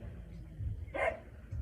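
A single dog barks once at close range, a short sharp burst standing out from a low indoor background hum.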